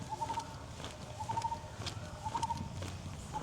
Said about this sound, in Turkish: Bak, bir de böyle bir kuş var.